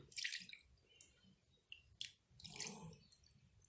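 Syrup poured over hot basbousa just out of the oven, a soft liquid trickle and wet drips with faint sizzling and squishing, quiet and close, no talking.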